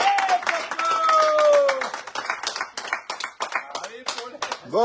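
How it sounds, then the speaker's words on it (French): A studio audience claps for Paulette during a French radio show, with scattered rhythmic claps mixed under a host's voice and bright tonal jingle notes. "pour Paulette, à chaque fois, des applaudissements"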